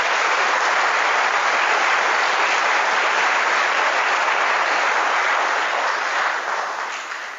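Sustained dense applause from a large crowd of young military and police personnel, steady and loud throughout before tapering off at the end.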